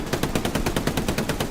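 Machine gun fire in the World War II shooter game Hell Let Loose, a rapid, evenly spaced burst of loud shots running continuously at close range.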